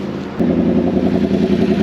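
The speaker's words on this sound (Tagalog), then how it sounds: "narinig ko ayun yung motor." A Yamaha R1M motorcycle with an Akrapovic exhaust rumbles steadily close by, its low drone swelling in abruptly and holding at an even level.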